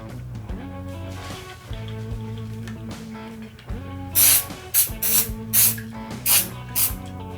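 Shooter's Choice Quick Scrub cleaner is sprayed onto shotgun choke tubes in several short, sharp hissing bursts near the end, after quieter handling noises, over faint background music.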